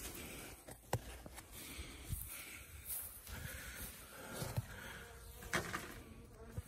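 Honeybees buzzing around a beehive opened at the front entrance, a faint, steady hum with scattered light clicks and knocks from handling the hive, quiet and close.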